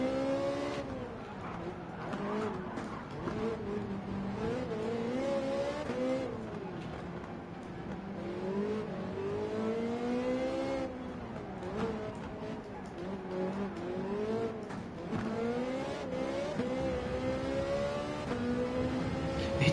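A Ferrari race car in Gran Turismo 7 at Fuji International Speedway, engine revving up and down through gear changes with rising and falling pitch sweeps, steady and fairly faint, with no clear tire squeal standing out.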